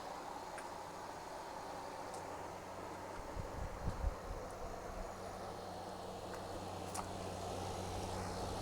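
A camper van's air conditioner compressor runs outside as a steady, faint low hum, with light wind noise and a brief rumble partway through.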